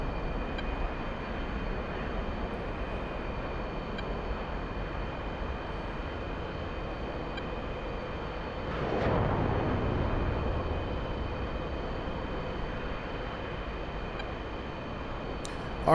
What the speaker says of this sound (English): Love how you can hear so much more of the jet now.